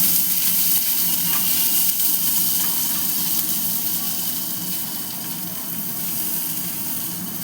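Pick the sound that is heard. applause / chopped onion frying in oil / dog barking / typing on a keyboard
chopped onion frying in oil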